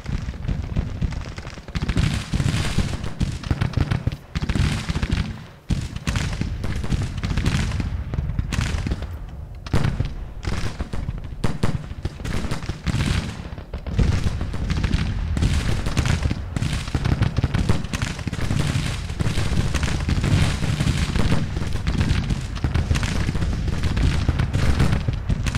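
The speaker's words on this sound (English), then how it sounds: "That cav is getting skirm fire, howitzer fire, and proper infantry brigade fire." Dense, continuous volleys of musket and howitzer fire from a Civil War battle in the strategy game Grand Tactician, crackling shots layered with deeper booms in a steady, loud barrage with no talking.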